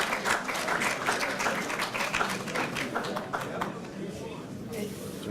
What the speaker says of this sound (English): the noise and applause